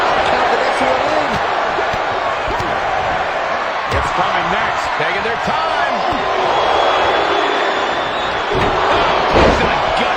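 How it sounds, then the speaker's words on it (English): Wrestling arena crowd during a Royal Ramble match, a loud dense roar with rhythmic chanting swells and shouts throughout, heavy thuds from the ring, and a commentator talking over it. "Listen to this crowd count the next one in."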